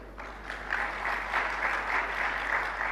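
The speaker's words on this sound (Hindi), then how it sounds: "तालियां तो बजा दी" Audience clapping during a Jain sermon by Praman Sagar Ji Maharaj: a sustained wash of applause from a large seated crowd, even and continuous throughout, with a low steady hum underneath and no talking.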